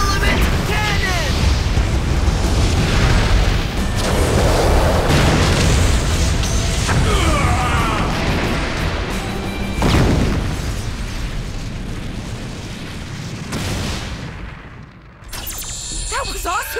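Explosive booms from an Element Cannon attack in the Bakugan: Armored Alliance video game, a dense, loud barrage of blasts layered with game music and effects, with a big burst near ten seconds before the noise briefly drops away.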